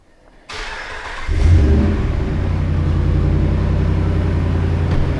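A car engine cranks briefly and catches, then settles into a steady, loud idle with a constant low rumble and hum, close by and with no talking over it.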